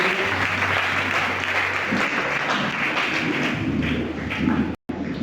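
A church congregation applauding together, a dense continuous burst of clapping that carries on steadily and cuts off abruptly near the end.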